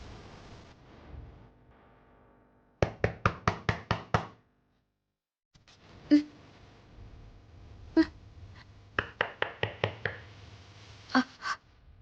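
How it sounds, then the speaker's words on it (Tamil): Someone knocks on a door in a tense TV drama scene: a rapid burst of sharp knocks, a silence, then several more rounds of knocking with some single louder thuds, all fairly close and distinct. "வெளியில யாரோ கதவை தட்டுறாங்க"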